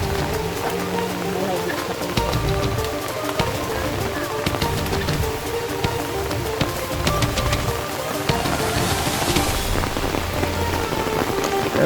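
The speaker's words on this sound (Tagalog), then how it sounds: "kahit sobrang lakas ng ulan" Heavy rain pours steadily in a dense, loud hiss of drops hitting surfaces, unbroken from start to finish.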